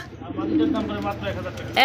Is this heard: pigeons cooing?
yes